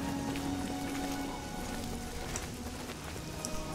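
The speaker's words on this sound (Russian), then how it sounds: "О, дождь-то какой противный." Steady rain patters in the Oblivion video game, a dense, even hiss of drops falling on surfaces that continues without a break.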